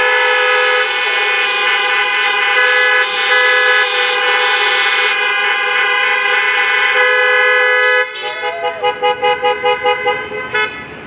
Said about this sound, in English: Can we give a big, loud honking of the horns for the graduates of 2020?